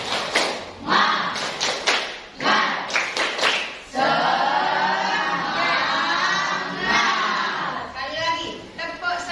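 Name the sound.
rhythmic spirit clapping led by teacher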